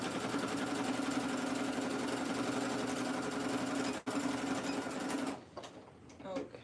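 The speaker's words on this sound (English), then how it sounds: "Forward stitch, back stitch. Then continue your stitch forward." A sewing machine runs steadily while stitching a dart on cow print shorts, a continuous near whirring hum for about five seconds before it stops, followed by faint handling sounds.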